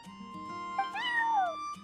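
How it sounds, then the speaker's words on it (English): A cat meows once, a clear rising-then-falling cry close by, standing out over a quiet steady hum. "I'm sorry, that's my neighbor's cat."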